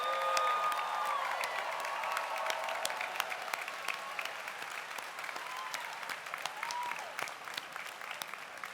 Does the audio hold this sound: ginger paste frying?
no